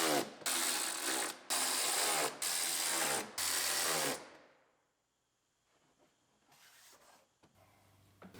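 Rapid bursts of a power tool or impact driver bolting parts onto a 2018 Ford Explorer Limited AWD during a collision rebuild, four loud runs in a row, then faint clicks and handling noises.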